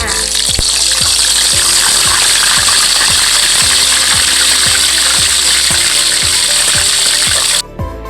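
Loud, dense sizzling and crackling of fish frying in hot oil in a pan, continuous throughout, with regular clicking knocks underneath and a brief dip near the end.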